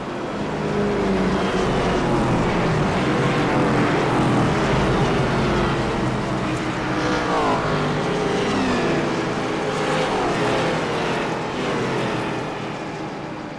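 IROC Challenge Series race cars roar past at Nashville Superspeedway as the field takes the green flag, a loud, sustained pack of engines accelerating hard, swelling and shifting pitch as they pass close by.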